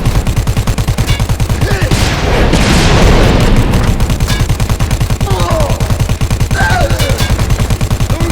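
A grenade explodes in Dead Rising 4, a loud boom swelling mid-way over rapid, rhythmic gunfire that hammers on before and after, with no one speaking.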